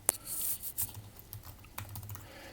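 Fast, uneven keystrokes on a computer keyboard while typing code into a web-based Kotlin editor, close and clear, with short bursts and pauses and no talking.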